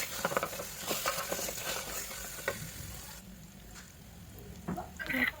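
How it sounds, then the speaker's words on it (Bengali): Onion, green chilli and ginger-garlic paste sizzle in a hot pan as a spoon stirs and scrapes through them in uneven strokes, loud and close, before the frying settles to a quieter hiss. "ভালো করে নেড়ে নেবো।"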